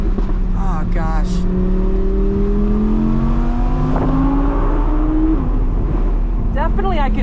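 A supercar engine, a C8 Corvette Z06 or Audi R8 V10 naturally aspirated, revs hard to high RPM with rising harmonic tones, close and loud over steady road and wind noise.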